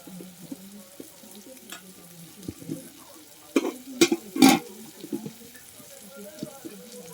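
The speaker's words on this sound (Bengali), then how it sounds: "চিংড়ি মাছটাকে হালকা করে সিদ্ধ করে নিচ্ছি ওরার মধ্যে নেড়ে নেড়ে" Prawns stirred and lightly cooked in a pan, soft intermittent sizzling with scraping and a few sharp clacks of a spoon against the pan mid-way, fairly quiet and close.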